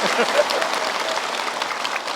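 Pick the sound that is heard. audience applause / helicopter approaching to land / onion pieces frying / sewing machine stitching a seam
audience applause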